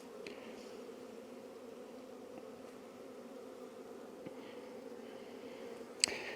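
A steady low insect hum of many honey bees buzzing throughout a hive inspection, fairly quiet and continuous, with a brief sharp click near the end.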